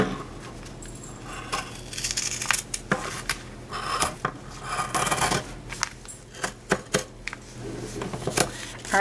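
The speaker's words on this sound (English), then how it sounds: "So I'll go ahead and pin my piece and cut that out." Scissors cutting through pinned black fabric for a penguin sewing project, a run of close, irregular snipping and rustling strokes with short pauses in between.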